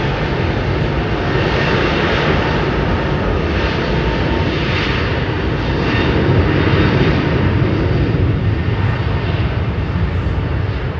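A JetBlue Airbus jet airliner at London Heathrow gives a loud, continuous engine roar that stays broad and steady throughout, with no voices.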